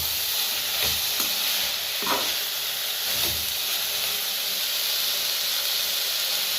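Curry leaves sauté in hot oil with a steady hissing sizzle and a few stirring scrapes, close and continuous, with no talking.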